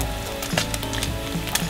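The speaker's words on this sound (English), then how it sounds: "You want to fry the bacon until it is crispy." Bacon frying in a hot pan, a dense steady sizzle with faint crackles and pops, close and continuous with no voices.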